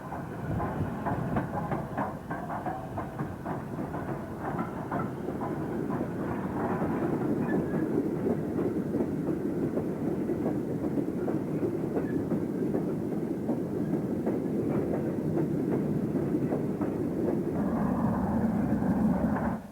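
Stanier 8F steam freight locomotive with a smaller Fowler-type tender runs by in the 1950s with a steady rumbling roar and rhythmic clattering of wheels over rail joints, loud and sustained.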